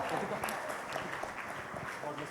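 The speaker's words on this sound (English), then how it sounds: "A big round of applause for them." Applause from an audience at the KSOS 2023 ophthalmology event, cheering a competing team: a dense, steady wash of clapping heard from a distance, with crowd voices mixed in throughout.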